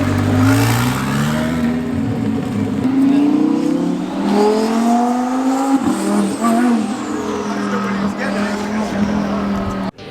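A first-generation twin-turbo Audi R8 drives past at a car show, its engine note rising and falling as it goes by. A loud voice talks over it the whole time.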